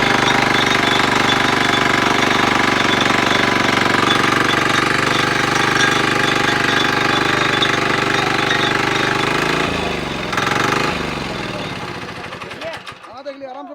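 A 7 HP Kama engine tiller runs loudly and steadily close by, its dense mechanical clatter continuing until the engine slows and shuts down near the end, with some voices faintly mixed in.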